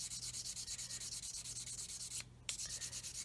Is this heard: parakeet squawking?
no